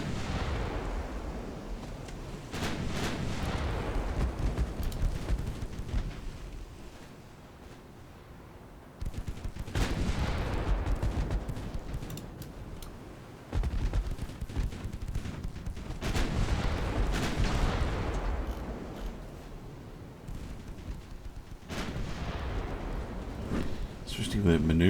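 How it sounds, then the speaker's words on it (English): Naval casemate guns fire repeatedly in Ultimate Admiral Dreadnoughts, booming salvos in several waves with rumbling echoes, heard mid-distance under someone talking. "It's certainly impressive, the casement fire"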